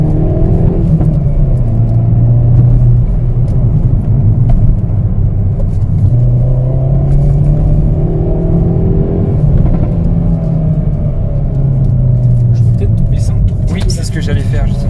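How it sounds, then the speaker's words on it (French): Hyundai i30N Fastback with a 2.0 T-GDi turbo four-cylinder under acceleration, heard from inside the cabin as a loud droning engine rumble rising and falling through gear changes, with people talking over it. "on entend le turbo qui charge"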